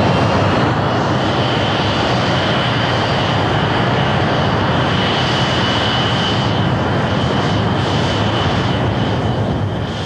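Thrust SSC, a jet-powered car, starts its run with a loud, continuous jet-engine roar that holds at full strength for ten seconds, dense and rushing with no voices over it.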